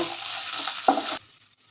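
Grated coconut and coconut peel frying in a pan, a brief crackling sizzle with a sharp clink of a utensil before it cuts off suddenly.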